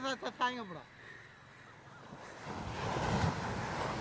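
Ocean waves wash onto the shore at Maruthamunai, a low continuous surf roar that swells toward the end, preceded by a brief burst of speech and some wind.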